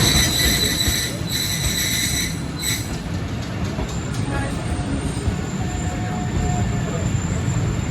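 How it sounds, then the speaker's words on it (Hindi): The 46DN Pakistan Express slows into Bahawalpur railway station, its wheels squealing against the rails over a continuous heavy rumble, with a loud high whine early on and quieter screeches later, close by and steady throughout. "भावलपुर रेलवे स्टेशन पहुंच गई हमारी ट्रेन"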